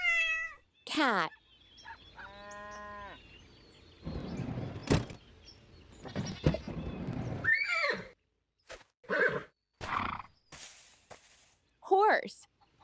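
Game sound effects from the Dino Island mobile game: a bright horse whinny opens, followed by a string of other short animal calls and effects, close and distinct, with no talking.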